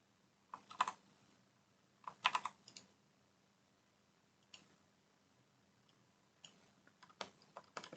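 Keystrokes on a computer keyboard come in short, uneven bursts of clicks with pauses between, fairly quiet over a faint steady hum, with no talking.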